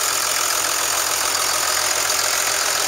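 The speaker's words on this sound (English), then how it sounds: "2001 Dodge 3500 Cummins diesel, turbo diesel." A 2001 Dodge 3500 four-wheel-drive dually pickup with a 5.9 Cummins HO turbo diesel, six-speed and 225,569 miles idles at an auto salvage yard, giving a close, steady, even diesel drone and clatter throughout.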